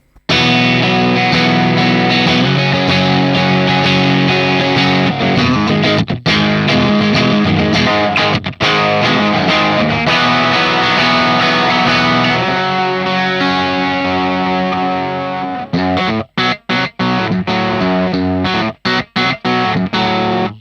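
A heavily distorted electric guitar through a Hotone Ampero 2 amp modeler on an edge setting plays sustained chords and riffs, loud and thick with effects, cutting into short choppy stabs toward the end.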